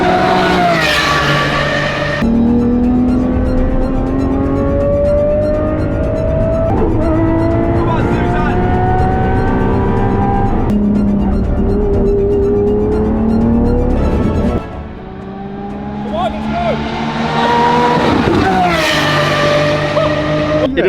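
Lamborghini SVJ supercar lapping a race track, its engine loud and close, climbing in pitch through repeated gear changes with a brief drop in level midway, while a voice talks over it.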